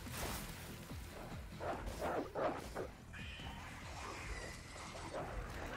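Dogs in the Resident Evil Resistance video game barking and yipping in a short flurry of sharp calls, fairly faint amid a dense game mix of noise and effects, no talk.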